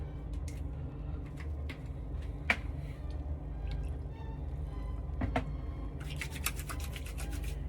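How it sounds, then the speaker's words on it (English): Stirling green aftershave is splashed on and slapped onto the face: a few faint liquid drips and dabs, then a quick flurry of wet patting near the end over a low steady background. "And then hit ourselves with some Stirling green aftershave."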